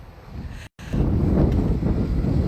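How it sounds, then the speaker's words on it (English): Wind buffets the microphone in a steady low roar, cutting out for a split second before gusting back just as strong. "it's windy out here."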